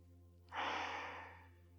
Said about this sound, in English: Just take a few breaths here.